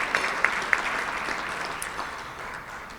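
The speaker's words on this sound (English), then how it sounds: "Let's give another round of applause for our new members" Audience applause for newly inducted Rotary club members at an evening Rotary meeting, steady crowd clapping with a few sharp individual claps near the start, fading slightly toward the end.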